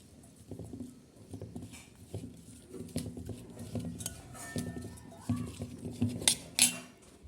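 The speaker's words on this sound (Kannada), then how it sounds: "ಮಿಕ್ಸ್ ಮಾಡಬೇಕು." Tomato and onion pachadi being stirred together in a bowl with jaggery powder and oil, giving a run of close, rhythmic clinks and soft wet scrapes with no talking.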